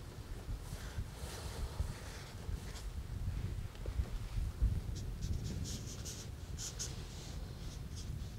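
Wind blows through Inunaki Mountain tunnel near Osaka, a steady low rumbling buffet with soft gusts and faint rustles, echoing in the enclosed space throughout.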